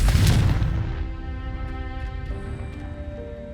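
A Confringo fire spell blasting in the Hogwarts Legacy video game: one loud booming burst at the start, then a decaying tonal ring and crackle fading over a few seconds.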